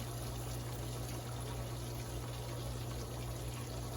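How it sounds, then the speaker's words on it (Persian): Lemon juice poured into sugar syrup being prepared for gulab jamun, a faint, continuous liquid trickle under a steady low hum, with no talking. "تقریبا نیم دانه لیمو آبش ما در شربت اضافه میکنیم"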